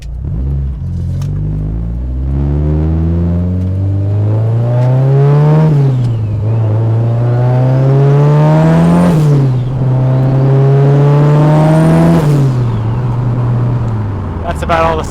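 A Mitsubishi Evo 8 running its new motor pulls through several strong accelerations, its engine note climbing in repeated sweeping runs, loud and close from inside the car, with talk riding over the engine.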